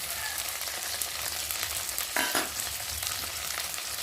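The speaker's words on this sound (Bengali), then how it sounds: "মশলাটা ভালোভাবে কষিয়ে নেবো" Spice paste of garlic, ginger and cumin with chopped tomato, turmeric, chilli powder and salt sautéing in a pan for a khoyra fish dish, a loud, continuous close sizzle with a brief scrape of stirring partway through.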